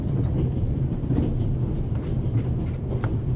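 Long-distance passenger train rolling in The Raven, a low steady rumble with faint rhythmic clatter of wheels over rails, continuous and moderately loud.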